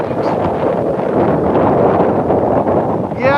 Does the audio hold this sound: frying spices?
no